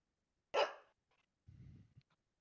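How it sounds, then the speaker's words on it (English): A pet dog named Ash lets out one short, sharp bark indoors, then a softer, low grumble follows in an otherwise quiet room. "Did he just bark? He is barking"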